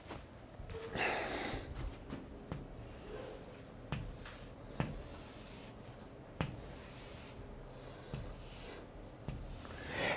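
Drawing a pyramid inside a parallelepiped on a classroom board, long scratchy rubbing strokes with sharp taps between them, faint and close in a quiet room.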